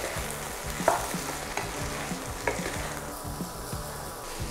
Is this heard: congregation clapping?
no